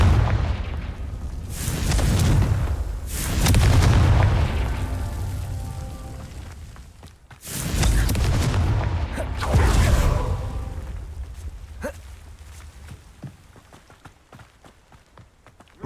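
Confringo fire-spell blasts in the video game Hogwarts Legacy: several loud booming bursts with rumbling tails, two strong pairs of blasts followed by smaller scattered impacts and clicks, no talking.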